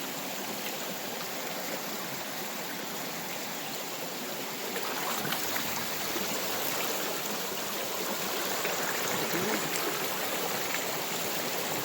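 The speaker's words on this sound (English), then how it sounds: "Kind of deep in my sluice, but water's moving okay" Water runs through a prospecting sluice box set in a stream, a continuous moderate rushing and trickling flow that swells slightly partway through, with no talking.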